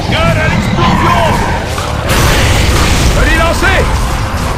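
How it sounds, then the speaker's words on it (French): A loud, dense grenade blast rumbles through a chaotic Gears of War: Judgment game scene, heavy low-end booming under overlapping voices and clutter. "Garde à l'explosion!"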